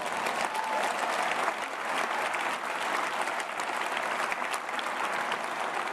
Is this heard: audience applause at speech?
yes